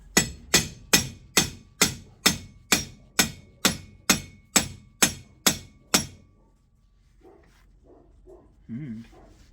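Steel on steel: a screwdriver is driven in with a dozen sharp, evenly spaced metallic strikes as it prises apart a spot-welded Craftsman ZTS 7500 zero-turn mower deck part held in a vise, followed by quieter scraping and shuffling.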